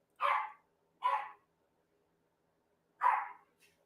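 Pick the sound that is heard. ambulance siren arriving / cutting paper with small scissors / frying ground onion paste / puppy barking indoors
puppy barking indoors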